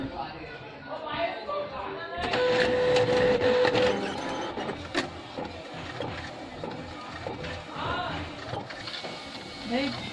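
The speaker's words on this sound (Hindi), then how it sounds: "ये हमने कमांड दी और ये प्रिंट लेगा" A printer runs while printing a poster, giving a mechanical whirring and a brief steady tone, heard beneath ongoing talk and background chatter indoors.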